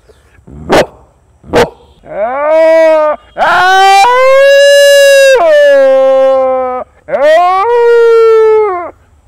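Two quick sharp barks, then a voice mimics a dog's long mournful howls at the call to prayer in three sustained, rising and falling wails, loud and close.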